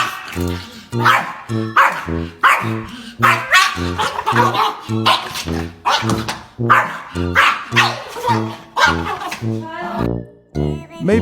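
A dog barks repeatedly and loudly in a backyard, with quick yips and whimpering tones, over a steady rhythmic music bed that continues throughout.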